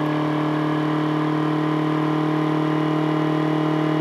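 A homemade pulse motor spins up on a tabletop, giving a steady, loud mechanical hum with strong even tones and a constant buzzing vibration throughout, no talk.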